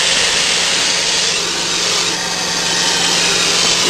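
Compressed air hisses out as an air ride trailer suspension is dumped, a loud, steady broadband rush that holds for the whole stretch without a break.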